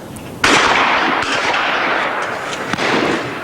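Gunshots in a field setting, a sharp loud report followed by long rolling echo, then a couple more fainter shots within a few seconds, no talk.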